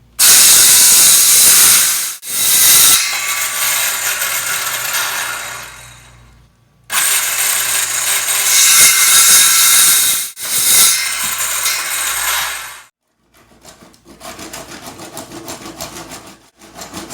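Loud power tool cutting through a wooden chair leg during a trimming and leveling job, two long hissing bursts separated by short pauses, then a quieter trailing stretch.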